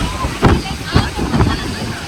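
Strong monsoon wind roars at Bhandardara dam, whipping water spray into the air in loud gusty bursts that buffet close to the microphone.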